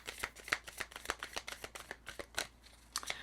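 Oracle cards being shuffled by hand, a quick run of soft, papery riffles and slaps repeating close to the mic with no voices.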